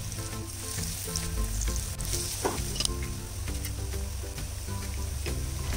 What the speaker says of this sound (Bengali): এক একটি চপ নিয়ে আমি এভাবে ব্যাটারে ডুবিয়ে আমি এভাবে কাঁটা চামচ দিয়ে তুলে তেলের মধ্যে ছেড়ে দিব